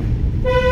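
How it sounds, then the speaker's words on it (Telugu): A car horn sounds once during a driving lesson, a single sustained toot that starts partway through and stands out over a low engine rumble. "హారన్ చేయండి"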